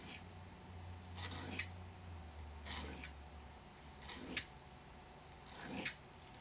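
A knife blade is drawn across a sharpening stone at a 20-degree angle, making four long, quiet rasping strokes separated by pauses over a low steady hum.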